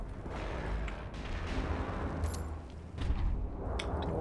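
Dual-wielded handguns fire in Wolfenstein: The New Order, a dense run of loud, rapid overlapping shots with booming low end, continuous across the whole stretch.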